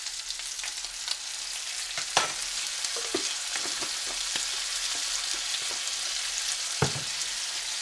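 Jalapenos and garlic sizzling in bacon fat in a pan, a constant close frying hiss broken by several sharp scrapes and knocks of a utensil stirring, no talking.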